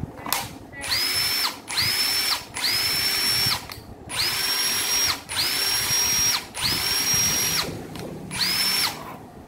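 A Makita cordless drill runs in repeated bursts, each spinning up to a high steady whine and winding down, with short pauses between about seven runs, loud and close.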